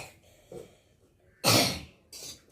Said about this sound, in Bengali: শুকনো লঙ্কা ভাজি তো এই জন্য কাশি হচ্ছে